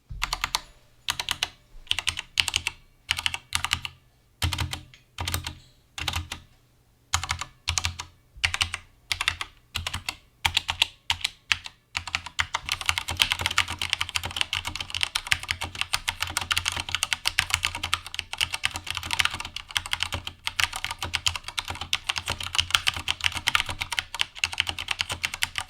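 Typing on an Akko 3084 gaming keyboard with Cherry MX Red switches and PBT dye-sub keycaps: close, clear keystrokes, first in separate clustered bursts, then a fast continuous clatter of rapid typing.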